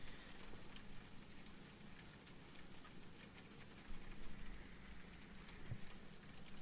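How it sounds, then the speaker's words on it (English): Steady rain falls outside, a constant soft patter and hiss that holds evenly throughout at a low level, with no voices. "It's like been raining constantly."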